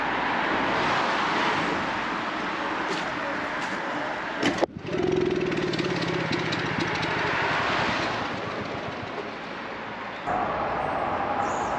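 A Honda C90 motorcycle engine runs steadily after a bump start, a close, loud continuous buzz with a sharp knock midway and a slight shift in tone near the end.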